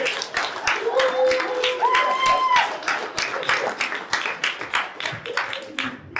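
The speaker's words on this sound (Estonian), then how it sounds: "Teeme suure aplausi!" An audience of coursemates at a celebratory speech event claps steadily for about six seconds, with voices and a brief whistle-like tone mixed into the crowd noise.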